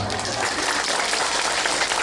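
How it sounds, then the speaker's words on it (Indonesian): A brief burst of applause from an audience honouring a school principal at a religious talk, steady clapping throughout. "Tepuk tangan untuk beliau."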